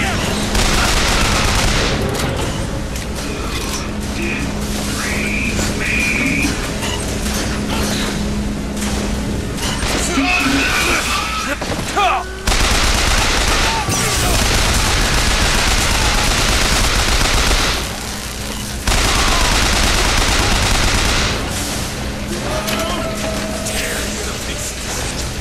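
Heavy weapons fire in the video game BioShock Infinite, a loud, nearly unbroken barrage of gunshots and booms that continues for the whole stretch with only brief dips.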